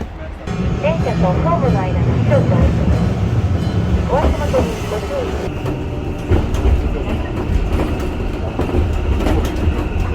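A train runs on rails in the Osaka-Kyoto area, making a continuous low rumble with scattered clacks and squeals. People chat over the noise throughout.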